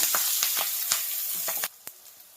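Curry leaves hit hot oil with ginger paste in a pan, crackling and sizzling up close with quick pops, then the frying drops away sharply near the end and leaves one last faint tick.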